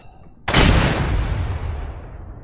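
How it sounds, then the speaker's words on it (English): A single heavy artillery blast from a howitzer or mortar in ARMA 3 erupts suddenly and loudly, then rumbles and rolls away in a long fading tail. "One of those was a howitzer, because they were different."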